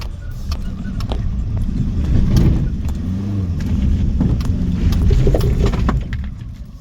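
A Fiat Panda car driving up over muddy farm ground and parking, a loud low engine rumble that rises and falls with rattles and bumps from close range, easing off at the end.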